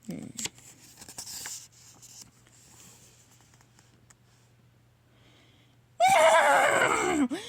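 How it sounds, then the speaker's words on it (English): A loud, close horse neigh bursts out after a stretch of quiet rustling and faint hum, its whinny wavering for over a second. "Outside, she heard a horse neigh in the distance."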